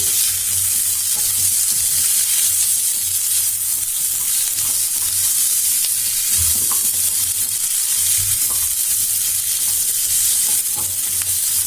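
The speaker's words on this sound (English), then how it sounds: "So fry the pumpkin for 1 to 2 minutes." Pumpkin pieces fry in a pan for soup, giving a steady, continuous sizzle with faint stirring scrapes and a few low knocks, close and fairly loud with no voices.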